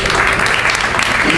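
Loud, close, continuous audience applause at a literary gathering in Altamira, with a full room clapping for a woman honored for her toy and clothing drive to the Sierra Huasteca.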